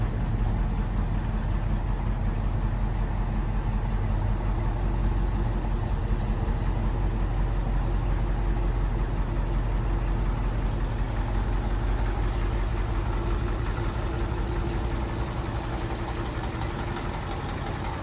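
A Rolls-Royce Silver Cloud idles and drives just after a brake system restoration, giving a steady, close, continuous low engine rumble with faint mechanical knocking and no talk.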